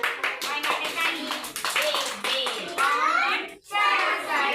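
Children at a puppet storytelling session clap their hands in quick bursts. Young voices chatter and an adult talks over the clapping, with a brief pause near the end.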